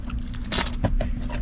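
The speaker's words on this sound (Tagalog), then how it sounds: "Teka lang, kuhanin ko na yung susi." A bunch of keys jangles close by, a short burst of bright metallic clinking with a louder rattle in the middle, over a low indoor background hum.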